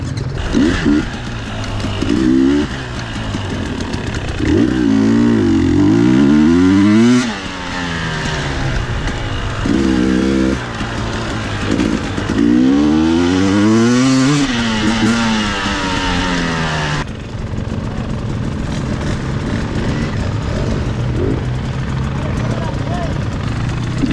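Motorcycle riding during an off-road riding clinic: a nearby engine revs up and down in repeated surges, its pitch sweeping high and low, loud and close, with a duller idling stretch near the end.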